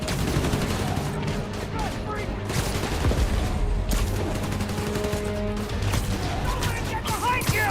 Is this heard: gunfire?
yes